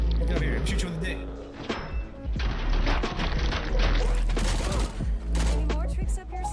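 Rapid gunfire bursts and impacts from the Resident Evil Village video game, loud and dense, mixed with game sound effects and a voice talking over the action.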